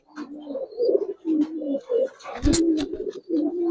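A Giribaz pigeon cooing close by in a series of low, throaty, rolling coos, with a brief flutter of wings midway and no talk.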